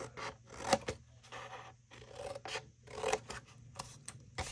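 Scissors cut away squares from a cardboard box template in short, irregular snips and rasping strokes with pauses between them, close and fairly quiet.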